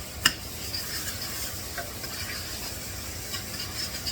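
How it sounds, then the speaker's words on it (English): Boiled corn kernels being stirred into a pot of Cajun soup on an electric stove over medium-low heat: a continuous soft swishing and scraping with one sharp clink near the start. "Stir that all in good."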